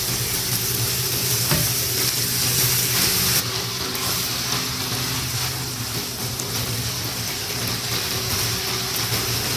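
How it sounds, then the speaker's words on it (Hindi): Chicken frying gently in a pan over low heat for butter chicken, a steady soft sizzle running throughout with faint stirring, close and fairly loud, no talk. "हम इसको जो फ्राई कर रहे हैं ना वो अच्छे तरीके से हमारी जो चिकन है वो अच्छी फ्राई हो जाए"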